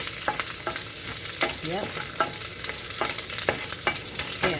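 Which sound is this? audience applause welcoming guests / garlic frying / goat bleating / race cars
garlic frying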